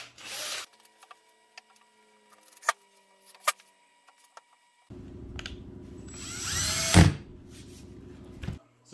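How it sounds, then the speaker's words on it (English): Power drill driving screws to fasten two pieces of wood together, a sustained whirring burst with a sharp rising whine near the end, preceded by scattered clicks and handling knocks. "I screw them together."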